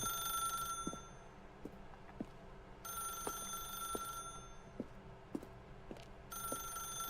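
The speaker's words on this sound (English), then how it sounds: "If you can truly place your faith in another, then pick up the phone." An old-style telephone bell rings in repeated bursts in a paranoid video game, each ring fairly faint and separated by short pauses over a low steady background, with rhythmic ticks running throughout.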